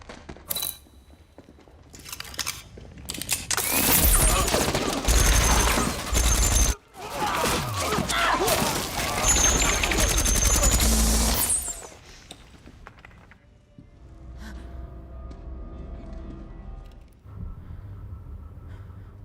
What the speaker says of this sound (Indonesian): Bahkan anak buahnya bersiap untuk menembak Duncan.